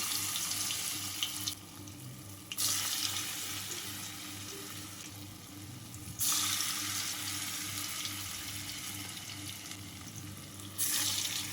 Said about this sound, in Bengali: কড়াইতে আমি তেল বসিয়ে দিয়েছি অনেকক্ষণ আগে তেলটা গরম হয়ে আসার পর আমি এখানে বড়াগুলোকে একে একে ভেজে তুলে নেব